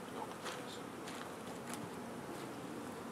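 Honeybees buzzing steadily at a hive as they build fresh comb, a dense, continuous drone close by with faint higher whines from individual bees passing near.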